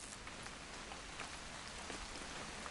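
Steady rain pours down in a video game scene, a dense, even hiss of drops falling alone without any voices.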